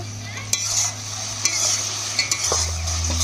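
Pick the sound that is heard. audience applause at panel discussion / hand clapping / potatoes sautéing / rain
potatoes sautéing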